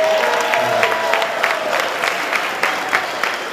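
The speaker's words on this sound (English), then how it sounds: "So can we give them a big round of applause?" An audience at a Bay Area end-of-summer celebration gives a round of applause for young men, dense steady clapping with a few sharper claps standing out, loud and continuous.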